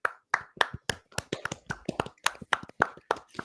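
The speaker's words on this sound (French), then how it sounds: "sous vos applaudissements" Scattered, uneven hand claps from what sounds like a small group, sharp and close, with no voices over them.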